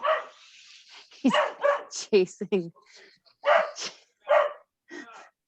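A dog barks in several sharp bursts while chasing a cat indoors, close and fairly loud, interleaved with and partly under a person talking on a call.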